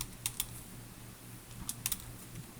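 Keys clatter in two short bursts of typing on a computer keyboard, a few quick taps each, close and fairly quiet over a low steady hum.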